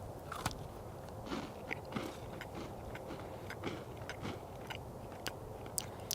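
Crisp bites and chewing of a shortbread cookie from a humanitarian daily ration, a series of close, sharp crunches spaced irregularly over a quiet background.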